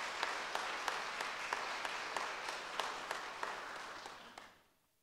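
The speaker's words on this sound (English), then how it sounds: "So let's give them a round of applause." Church congregation applauding graduates at a Sunday contemporary service, moderate clapping with a few sharper claps standing out, steady before fading away at the end.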